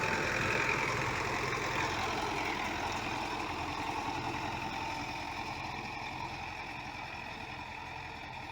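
Tractor engine running in a farm field while crops are being harvested and rolled up, a steady low rumbling idle drone at moderate distance that fades slightly over time.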